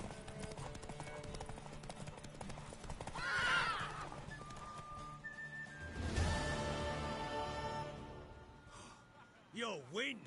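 In a video game, a horse gallops with rhythmic hoofbeats, then gives loud neighs and whinnies, with a brief voice near the end.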